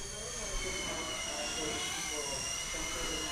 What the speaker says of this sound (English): That's full power. And you get the motor laboring.